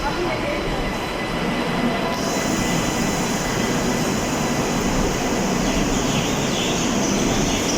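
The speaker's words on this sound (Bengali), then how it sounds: "মেট্রো চলে এসেছে আর আমরা এখন মেট্রোয় চাপবো" A Kolkata metro train rolls into the station with a loud, continuous rumble and hiss that stays steady throughout, a faint squeal rising near the end.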